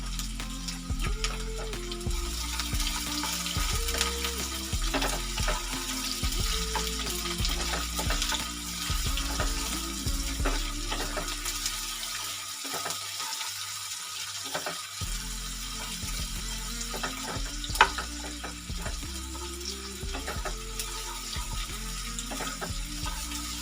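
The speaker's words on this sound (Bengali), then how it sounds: "পেঁয়াজটাকে আমরা ভালো করে ভেজে নেব।" About four medium-sized chopped onions fry in a pan for Marathi-style mutton fry, a steady close sizzle with occasional stirring scrapes throughout, briefly quieter partway.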